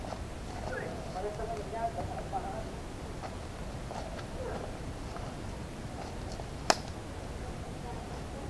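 Horses walking with hooves clip-clopping in a loose irregular rhythm, moderately near, under background murmur and a sharp click partway through.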